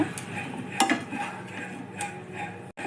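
A spoon stirs lemon rice with chopped coriander leaves in a pot, scraping and clinking against the metal in steady repeated strokes, with a brief hard knock near the end.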